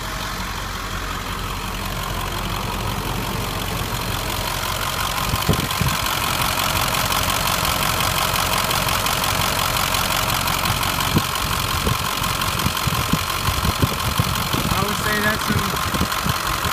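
A warmed-up 7.3 diesel engine idling during a blow-by test, a steady loud clattering rumble with rhythmic knock, occasional thumps and someone talking over it.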